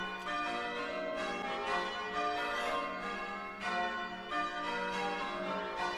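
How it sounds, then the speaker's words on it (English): Croft church bells ringing continuously for a VE Day celebration, a full rich peal of overlapping strikes with sustained ringing tones, steady and fairly loud. "The bells are continuing to ring"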